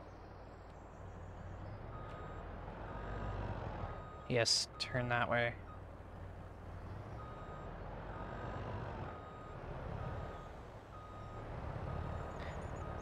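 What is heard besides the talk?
truck reversing beeps in video game Farming Simulator 22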